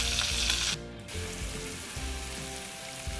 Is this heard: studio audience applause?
no